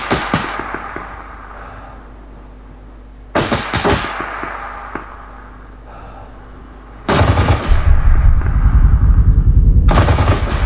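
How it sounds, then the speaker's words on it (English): Loud bursts of automatic gunfire in the video game Arma 3, rapid crackling volleys separated by quieter pauses, ending in a sustained heavy barrage with booming low impacts. "He's shooting at them."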